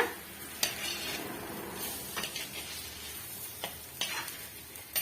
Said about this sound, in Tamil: கட் பண்ணி விட்டுட்டு இதோட வந்து நல்லா மிக்ஸ் பண்ணி விட்டுடலாங்க